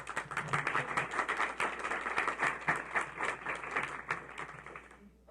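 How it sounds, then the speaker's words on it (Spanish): Applause from an audience at a talk on politics, law, taxes and women in Colombia, a modest spatter of clapping with many distinct claps, moderately distant, fading out near the end. "pido un aplauso"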